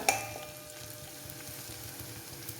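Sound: curry leaves, ginger and garlic frying in oil for mango pickle

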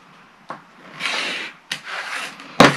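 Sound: trimming edges of fabric quilt block

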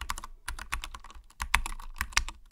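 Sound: typing on a computer keyboard

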